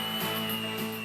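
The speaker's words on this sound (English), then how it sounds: "I'm going to make them look a lot more presentable by giving them a good clean up with my belt sander" A belt sander running steadily on freshly cut pieces, a continuous close whir with a faint grinding surge in the middle.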